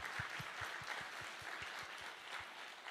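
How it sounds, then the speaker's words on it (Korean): A church congregation claps together after a benediction, steady and fairly faint in a large hall, with a slow rhythmic pulse of hand claps running through the broad wash of applause. "우리 하나님께 영광의 박수 올려드릴까요?"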